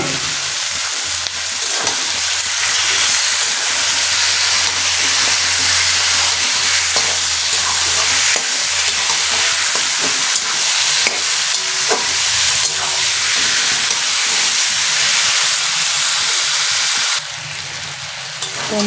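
800 grams of mutton fries in a pan of hot oil while being stirred, a loud continuous sizzle with scraping stir strokes throughout, easing slightly near the end.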